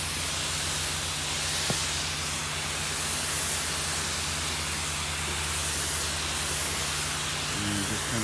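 A light coat of roof cleaning solution is sprayed along a roof edge near vegetation, a steady broadband hiss running unbroken and fairly close throughout, with a faint low hum beneath.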